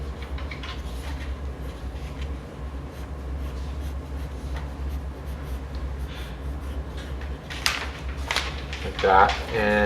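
A pencil scratches out a cartoon figure's arms on paper, soft continuous strokes heard close and faint, ending in a few louder quick scribbles, with a person talking throughout.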